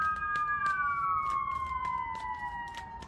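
A fire engine siren wails outside, heard moderately faint from indoors, its steady tone slowly sliding lower as the truck passes by.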